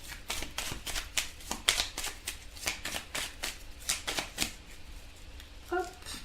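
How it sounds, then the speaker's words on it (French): Tarot cards being shuffled by hand for a reading, a run of crisp riffling flicks and soft card slaps in quick irregular bursts, close and fairly quiet, with a brief faint tone near the end. "Alors on va commencer ce tirage, donc on va mélanger."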